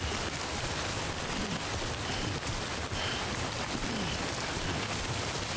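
Acid rain pours down steadily in the video game Death Stranding Director's Cut, a dense, even hiss of drops that carries on without a break. No one speaks.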